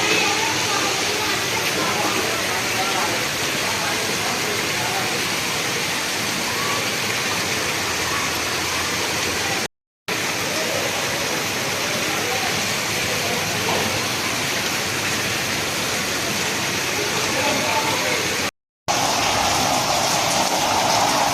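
Heavy stormy rain in Pakistan pours down in a steady, dense roar that never lets up, briefly cut off twice.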